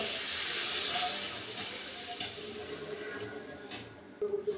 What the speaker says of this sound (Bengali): এবার দিয়ে দিচ্ছি আমি পরিমাণ মতো জল।